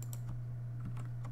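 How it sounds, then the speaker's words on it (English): Rapid keyboard clicks, a few irregular taps over a steady low electrical hum, close up with no voices. "if you heard the keyboard clicks"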